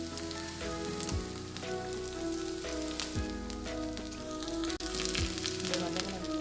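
Onions, garlic, green chili and curry leaves fry in a pan for egg curry, producing a continuous crackling sizzle like light rain, moderately quiet and close, with a few soft stirring scrapes and a steady tonal hum underneath.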